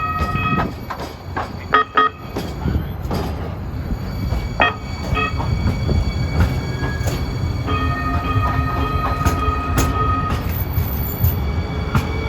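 A Newark light rail train passes on the NJ Transit line inbound to Broad Street, loud rolling wheel noise with clicks and squeals on the rails, a sustained close pass throughout.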